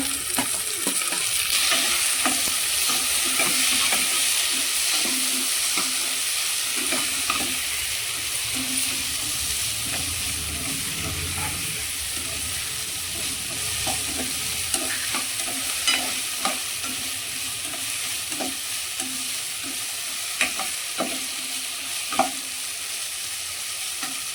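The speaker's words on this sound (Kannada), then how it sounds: "ಬ್ರೌನ್ ಕಲರ್ ಬಂತು ಆನಿಯನ್. ಇವಾಗ ಇದಕ್ಕೆ ಟೊಮೆಟೊ ಆ್ಯಡ್ ಮಾಡ್ಕೊಳ್ಳೋಣ." Tomato added to browned onions frying for Mangalorean chicken sukka, with a continuous close sizzle and repeated scraping strokes of a spatula in the pan, steady throughout with no voices.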